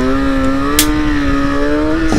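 Motorcycle engine holding a steady, droning note while riding a long wheelie, with slight rises in pitch and a brief rush of wind noise midway; continuous and close throughout.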